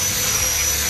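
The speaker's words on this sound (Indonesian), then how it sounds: "kita amplas menggunakan mesin" Electric sanding machine working a rosewood machete scabbard, a loud continuous whirring drone with a high whine on top, steady and close for the whole second.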